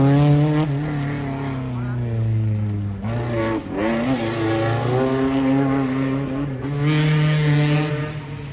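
Modified cars race on a track, engines screaming loud with strongly harmonic revving that rises and drops through gear changes, one car passing close with a brief dip around the midpoint; voices talk faintly under the engine noise.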